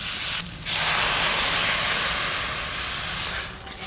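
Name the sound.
water added to sizzling fried spice paste in pan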